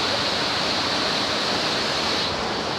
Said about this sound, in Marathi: तामिनी घाटातील सगळ्यात पहिला धबधबा लागलेला आहे इथं.